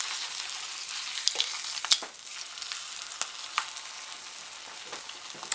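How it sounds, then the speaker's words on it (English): An egg with its yolk broken fries in a pan for a ham steak breakfast sandwich, giving a continuous bright sizzle with scattered pops and a few small clicks, close up and free of talk. "So at this point I want to go ahead and flip my egg."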